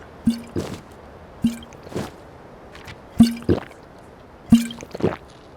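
A Skyrim character drinks water, giving a repeated pattern of wet gulping, squishing swallows in four close clusters, each a sharp liquid pop followed by a softer drip-like gulp.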